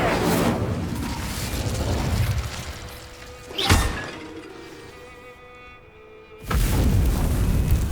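Whooshing fire-spell blasts and crackling bursts in the video game Hogwarts Legacy, a loud rumbling surge, a sharp crack mid-way, a quieter lull, then another strong roaring burst.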